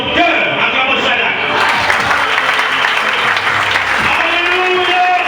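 A church congregation applauds and cheers in acclamation, a dense, loud, sustained wash of clapping with mingled voices throughout.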